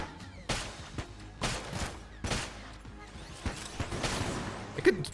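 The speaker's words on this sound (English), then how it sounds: "careful of the explosions, please." Explosions in the modded video game Enter the Gungeon: a series of sharp bursts at irregular intervals, punchy and close, over a low game backdrop.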